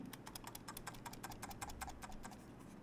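A quick series of light, sharp clicks from a cheap imitation Logitech mouse button sounds close to the microphone, faint and dry, in an irregular rhythm.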